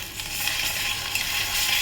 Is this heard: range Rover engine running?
no